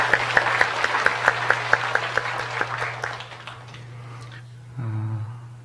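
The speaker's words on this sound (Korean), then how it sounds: "우리 박수 한번 할까요?" A church congregation at a Sunday service claps to welcome new families. The claps are sparse and rhythmic for about three seconds, then die away into a low steady hum, with no talking.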